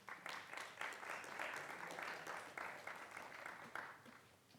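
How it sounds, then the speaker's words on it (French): Audience applause greeting a guest invited onstage at a science talk, a steady rush of many hands clapping, fairly faint and distant, holding evenly throughout. "Vous pouvez l'applaudir, elle va me rejoindre sur scène."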